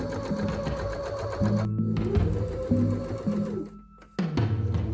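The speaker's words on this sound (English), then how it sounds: "Then I just had to cut it all out and start sewing." A sewing machine stitches fabric pieces for a giant bird costume, running in close, steady buzzing bursts that speed up and pause briefly with a clear motor hum.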